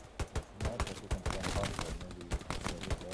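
Gunfire in the WWII shooter Hell Let Loose, with repeated sharp shots cracking in bursts and irregular rhythm, some close and loud and others farther off, with brief voice fragments mixed in.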